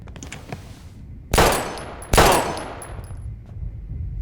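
Two loud, sharp gunshots crack out about a second apart in the game Life is Strange Remastered, each ringing off with a long decaying tail over a quiet background.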